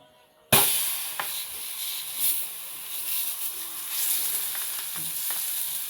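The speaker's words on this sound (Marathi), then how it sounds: "तवा तापायला ठेवला होता आता आपण त्याच्यावरती तेल घालूयात" Loud, steady sizzling of oil on a hot griddle for thalipeeth starts abruptly and continues with crackles and pops throughout, no voices.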